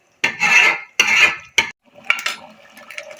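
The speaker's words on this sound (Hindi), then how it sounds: "इसको भी हम मिक्स कर लेते हैं, थोड़ा सा पकने देते हैं।" Stirring chicken achari in a cooking pot, three loud scraping sweeps of a spoon against the pot followed by softer clinks and scrapes, close and without talking.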